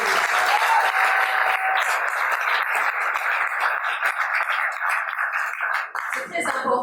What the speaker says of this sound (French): On peut applaudir pour